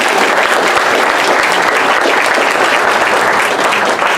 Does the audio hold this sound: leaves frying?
no